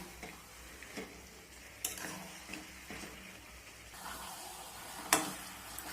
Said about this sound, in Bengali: তো এইভাবে আমি কয়েকবার ঢাকা চাপা দিয়ে মাংসটাকে কষিয়ে নেব।